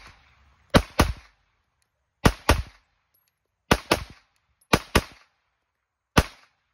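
Pistol shots from a PSA Micro Dagger, sharp and loud, fired mostly in quick pairs with pauses between groups, then a single final shot, about nine reports in all.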